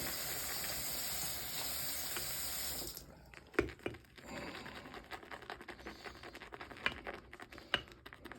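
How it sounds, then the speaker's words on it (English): Water pours steadily into a mug with a bright splashing hiss, then stops, followed by a few faint drips and small knocks. "Let's add some water here."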